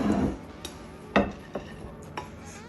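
Basmati rice with lemongrass is stirred in a pot: several sharp utensil clinks and scrapes arrive at uneven intervals, one louder knock near the middle, all close and quiet with no voices.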